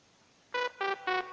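Three short, bright synth horn blasts from a cheap horn preset in Caustic 3, used as an amapiano bass line, sound in quick succession, buzzy and even in rhythm, over a faint hiss.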